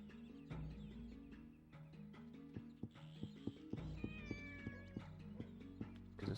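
A cat meows in Shenmue on the Dreamcast. A few clear, drawn-out mews rise midway over steady in-game background music with soft rhythmic tapping.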